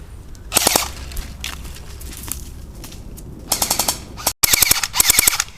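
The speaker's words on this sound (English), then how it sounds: "The AGM Sten Mark II airsoft gun." AGM Sten Mark II airsoft gun, a World War II–style replica, fires several rapid full-auto bursts of sharp mechanical cracks, close and loud, with short pauses between the volleys.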